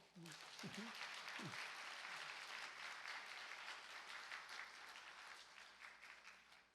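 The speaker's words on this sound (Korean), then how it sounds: "여러분 박수 한번 주세요." Sustained applause from an audience at a 50th anniversary ceremony of a Korean research institute fills the whole stretch, steady and dense, tapering slightly at the end after a brief voice at the start.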